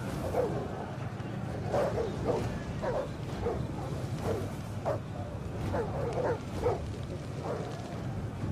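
Dogs barking amid a battle in the video game Total War: Attila, repeated sharp barks and yips scattered across the field at moderate distance over a steady low rumble of fighting, without clear talk.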